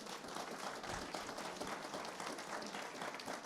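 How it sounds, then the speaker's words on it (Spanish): A church congregation applauds in a dense, steady wash of clapping that holds at moderate level for a few seconds. "Den un aplauso al Señor."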